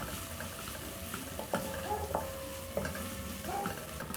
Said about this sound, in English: So you'll cook your onions until brown.